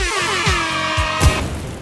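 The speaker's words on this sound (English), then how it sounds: "Airhorn!" Air horn sound effect: loud, brassy, tonal blasts with wavering pitch that stay prominent for under two seconds, followed by a fading tail.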